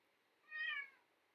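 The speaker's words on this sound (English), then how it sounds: "sorry if you heard that cat meow, ignore that" A single cat meow, moderately loud and drawn out over about half a second, rising and falling against a quiet background at a horse-riding dressage championship.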